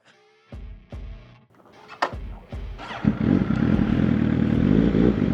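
A motorcycle on wheelie attempts, with a clutch that ends up burned: a few sharp throttle blips, then a loud, sustained close-up rev that holds steady to the end.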